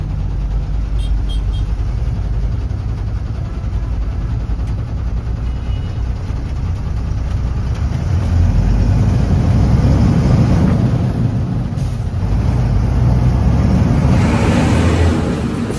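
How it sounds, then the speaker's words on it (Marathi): Cars and trucks stand idling in a traffic jam on a road near a Dhanbad forest, with broken-down vehicles ahead; a steady, loud low engine rumble fills the scene and swells slightly partway through. "असं व जाम लागते बघा."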